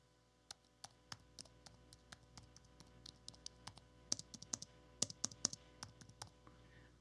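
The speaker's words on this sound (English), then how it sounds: "the reason I love the Magic Keyboard is because of the way it types" Soft, quiet key taps on an Apple Magic Keyboard, crisp light clicks in an uneven typing rhythm, sparse at first then quickening into short bursts, close and faint against a low hum.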